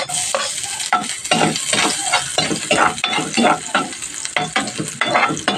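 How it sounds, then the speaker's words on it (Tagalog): Garlic sizzles in a pan of sardines while a utensil stirs and scrapes, a steady close frying hiss broken by quick metallic strokes, no talk. "Tropa, lagyan na natin itong bawang."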